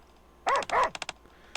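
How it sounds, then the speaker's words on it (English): A dog named Volt barks under a tree: two loud close barks, then a quick run of short yips and one more pair near the end. "He stops under a tree, then begins to bark."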